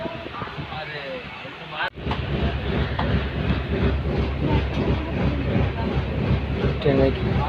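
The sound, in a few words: train running on the Kolkata to Mumbai journey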